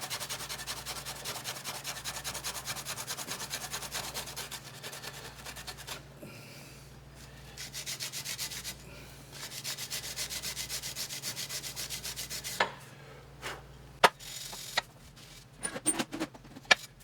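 Steady back-and-forth scrubbing of aluminum with a Scotch-Brite pad to clean off layout fluid before welding, a continuous rhythmic rubbing that pauses briefly a few times, followed by a few sharp clicks near the end.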